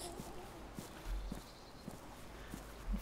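Horse hooves in the video game DayZ make a soft, slow clip-clop at a steady walking pace, faint and a little distant against quiet outdoor ambience.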